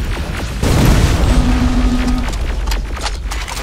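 Heavy gunfire and explosions in the Terminator Resistance game, a loud booming blast followed by a sustained rumbling barrage with scattered pops, continuing throughout with no pause.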